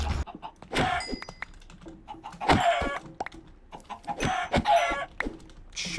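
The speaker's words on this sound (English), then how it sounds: "Chickens everywhere." Chickens clucking in the video game Minecraft, several short clucks and squawks popping up in irregular bursts, close and fairly loud against a quiet background with faint clicking.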